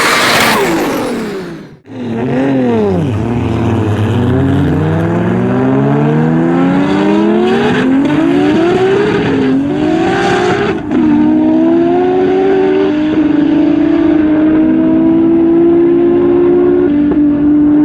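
A 1650HP sequential Supra race car on high boost roars loud and close, revving hard through rising gear pulls with brief dips at the shifts before holding a sustained high-pitched scream.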